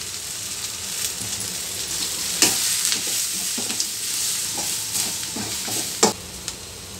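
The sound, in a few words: turmeric and coriander powder masala frying in pan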